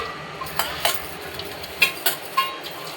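Utensils and dishes are washed in an Odia household, with a scattered series of light metallic clinks and taps over a soft, steady background.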